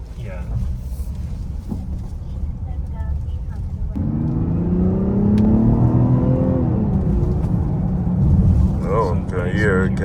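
A large Mazda car's engine hums and rises in pitch as it drives over a rough road, a steady near drone with road rumble throughout, with a person speaking briefly near the end.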